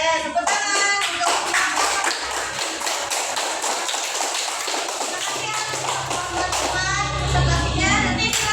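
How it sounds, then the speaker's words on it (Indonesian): A classroom of children claps hands together in a dense, sustained burst of applause, loud and close, with a few young voices mixed in. "Tepuk tangan untuk"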